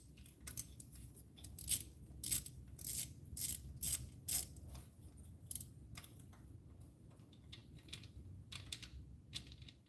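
A ratchet clicks rapidly in several bursts while bolts are tightened on an aluminum coolant housing of a GM 1.4L engine, close and crisp, then fading to lighter mechanical handling noises.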